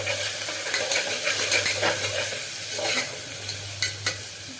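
Mint and coriander leaves sautéing in a pan for chicken gravy with ghee rice, a steady close sizzle with scraping stirs and occasional utensil clinks, no talking.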